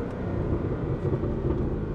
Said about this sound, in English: You get a lot of overrun too.